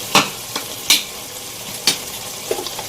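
A spoon scrapes and clinks in a pan of chicken tikka masala as yogurt and garam masala are stirred in, a few sharp separate strokes over a faint sizzle.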